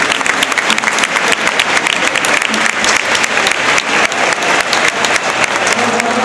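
An audience at a comedy set at the Barcelona Tattoo Expo breaks into loud, continuous applause. The dense clapping fills the whole stretch with a few faint voices underneath.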